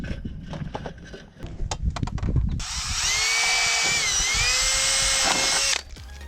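A power riveter or drill fixing small rivets into corner pieces of concrete foundation insulation, a few seconds of clattering handling and taps followed by a loud, steady whine that holds for about three seconds and then stops abruptly.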